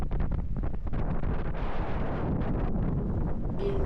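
Strong wind buffets the microphone on a hilltop at Jogimatti hill station near Chitradurga, a loud, continuous low roar with gusty surges and no voices over it.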